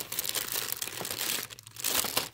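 Fingers rummage through a crinkly plastic packet of stickers from a Gunpla model kit shipment, giving continuous close, soft crackling and rustling with no voices.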